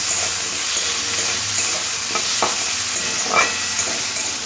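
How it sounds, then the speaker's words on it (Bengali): Diced potatoes frying in oil with onions, a continuous close sizzle with occasional scraping stirs and brief spatter bursts, no voices. "পেঁয়াজটা হালকা ভাজা হয়ে গেলে এর মধ্যে দিয়ে দেবো কেটে রাখা আলু"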